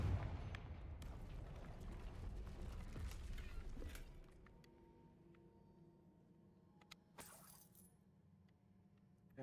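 A fire spell blast cast in Hogwarts Legacy amid debris left by a troll, a loud rumbling burst that fills the first four seconds, then decays into a quieter tail with a brief sharp crackle near the end.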